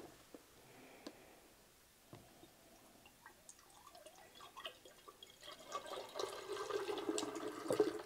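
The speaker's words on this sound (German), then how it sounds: "und gieße das in ein Gefäß." A mixture of 500 ml of water and 125 g of craft glue is poured into a container. Faint drips come first, then a louder, continuous liquid pour builds toward the end, with no speech.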